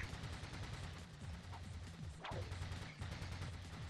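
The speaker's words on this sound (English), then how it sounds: "the thing about these turrets being timed like this, and not being able to be stopped" Automated turrets in the Ratchet and Clank video game fire in steady, rapid bursts, a continuous stream of gunfire-like shots with one sharper crash near the middle, no voices.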